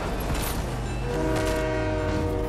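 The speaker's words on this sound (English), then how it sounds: "Oh, the train's in the way." A train's loud, sustained horn blares over a steady rumble of rolling rail cars in Fortnite Chapter 5, the horn sounding several tones together and holding on close by.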